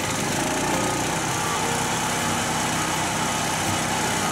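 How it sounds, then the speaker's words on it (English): Titan Pro TP15 garden chipper shredder with a 15 HP 420cc Lifen Easy Start engine runs steadily and loudly, a constant mechanical drone with no breaks and no voices. "The TP15 has been fitted with the trusted Titan Lifen Easy Start 15 HP 420cc engine."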